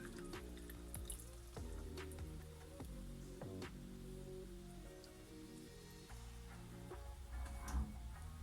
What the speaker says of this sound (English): I'm just gonna strain out the oak galls.